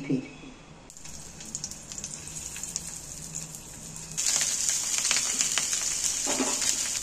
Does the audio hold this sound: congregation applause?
no